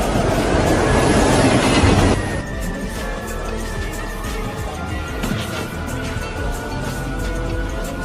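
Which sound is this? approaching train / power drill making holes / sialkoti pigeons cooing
approaching train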